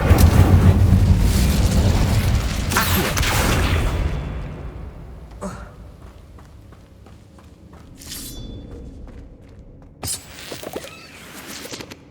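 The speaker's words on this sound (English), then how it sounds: "Incendiary!" An Incendio fire spell going off in Hogwarts Legacy, a loud roaring burst that rumbles for several seconds and then dies away into quieter game ambience, with a few sharper hits near the end.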